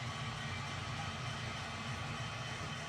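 An MTH GEVO model train locomotive in law enforcement livery runs continuously, giving a steady, even mechanical hum and rumble with no talking.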